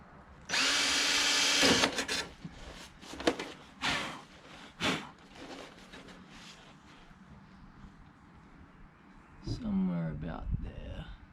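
A power drill whines in a long burst, then several short stop-start pulses, close by, with a person talking in between.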